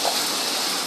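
Water squirting out hard like a fountain, a loud, steady rushing gush that lasts under a second, close by, with no talking.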